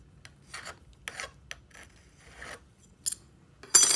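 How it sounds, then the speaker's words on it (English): Hand scraping of excess material off a sand casting setup for a six-prong engagement ring: short, dry rasping strokes in irregular bursts, close and fairly quiet, ending in one louder scrape. "we're going to scrape that off"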